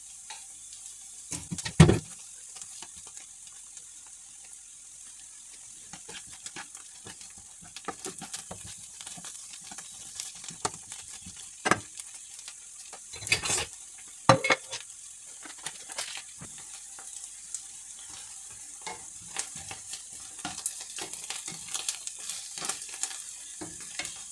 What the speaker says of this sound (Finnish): Antaa siinä nyt sitten pehmentyä tuo sipuli